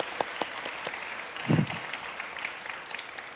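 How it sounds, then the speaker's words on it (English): An audience applauds at a leadership gathering, a soft, fairly distant patter of clapping with a brief louder swell in the middle, under a quiet room. "this is not only applause for Susan, but also for everybody sitting here today"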